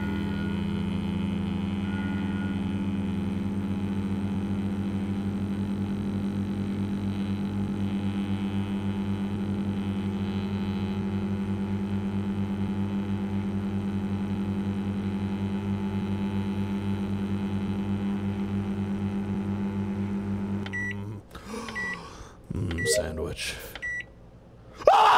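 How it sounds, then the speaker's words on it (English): A microwave hums steadily and loudly in a dark, twisted modded Among Us game, then gives way to a short burst of electronic beeps and clatter near the end. "We have 20 seconds left of the fucking microwave."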